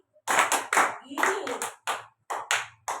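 Children give several sharp hand claps in short bursts, roughly five to eight, with a voice briefly mixed in; nearby and moderately loud.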